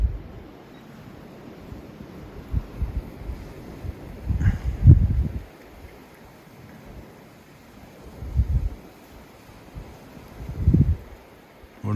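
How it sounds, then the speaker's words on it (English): Gusty wind buffets the microphone outdoors, rising in several strong rumbling bursts between quieter stretches. "Wouldn't be so bad if it wasn't so windy out."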